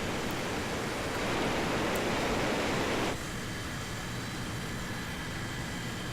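Jet engine roar from a Mitsubishi T2 jet fighter near max speed in War Thunder, a steady broadband rushing that swells for about three seconds, then drops abruptly to a quieter constant hum.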